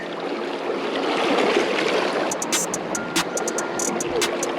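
Fast-flowing water rushes steadily through a small spring creek, a constant close wash of sound with a few sharp ticks near the end.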